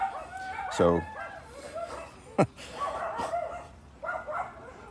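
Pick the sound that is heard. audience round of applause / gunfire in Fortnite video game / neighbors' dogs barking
neighbors' dogs barking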